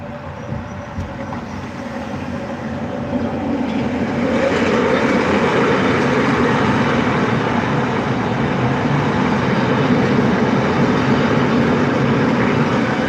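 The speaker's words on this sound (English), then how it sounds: "It's the train, son." An elevated L train rumbles past with a steady, broad roar that swells after a few seconds and stays loud and rushing until the end.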